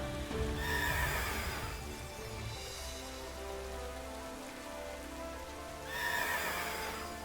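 A horse in the Pokémon Shield video game, Crown Tundra area, whinnies in two loud swelling calls at the start and end, over a steady patter of rain and music, with no talking.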